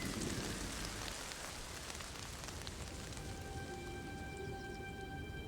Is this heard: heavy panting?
no